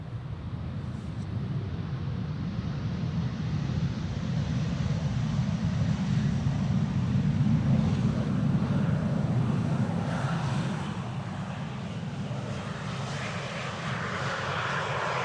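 A KLM Embraer 190 jet arriving on the Polderbaan runway gives a broad, steady engine roar that swells to a peak and then eases off.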